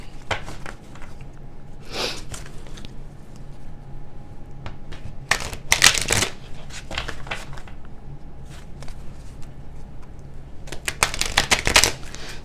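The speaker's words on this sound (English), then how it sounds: "Let me just shuffle." A deck of tarot cards being shuffled close up in several quick riffling bursts, separated by quieter pauses with faint handling sounds.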